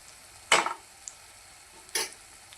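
Makhana curry masala frying and being stirred in a pan, two sharp scraping sizzle bursts about a second and a half apart, with faint quiet in between.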